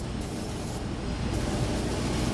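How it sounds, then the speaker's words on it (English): A spray gun sprays paint onto a repaired rusty rear quarter panel of a Suzuki SX4, a steady hissing spray without a break at close range, with a faint low rumble beneath it. "Spray it evenly."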